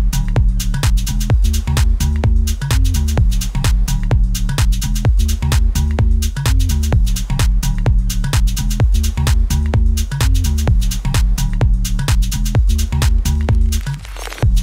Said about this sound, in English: So the bass and the beat sound like this together.